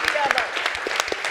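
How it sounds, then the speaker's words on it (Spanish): Audience applause at a cancer short-story contest launch, a short burst of clapping from a seated crowd mixed with a voice talking over it. "Un fuerte aplauso, por favor."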